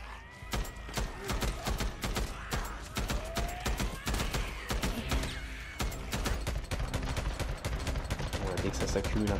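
Dense, rapid gunfire during a huge horde fight at a sawmill in the video game Days Gone, sharp repeated shots in continuous bursts, with someone talking over them.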